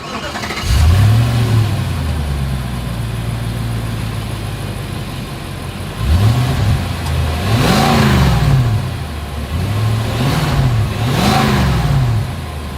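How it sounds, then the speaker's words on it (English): A Nissan Armada's exhaust rumbles at idle, then revs up in several sharp, throaty bursts that rise and fall back, loud and close. "As always, here is that exhaust clip."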